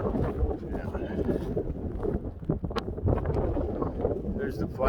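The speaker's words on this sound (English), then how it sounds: "Look how windy it is. Really windy, but not that cold." Strong gusting wind buffets the microphone on a seaside nature walk, with a boat nearby, producing a loud, continuous roar with irregular surges and rumbles.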